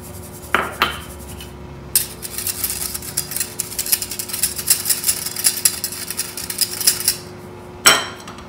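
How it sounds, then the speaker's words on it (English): Cake batter of ground cookie powder, baking soda and baking powder mixed in a bowl, with a steady run of scraping, rubbing and clinking strokes after a few sharp taps, close and quiet. "I'm gonna mix it well."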